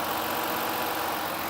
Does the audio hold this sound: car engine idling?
yes